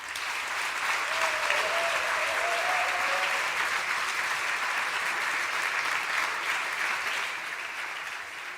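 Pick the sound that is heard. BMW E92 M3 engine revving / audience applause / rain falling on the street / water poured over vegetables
audience applause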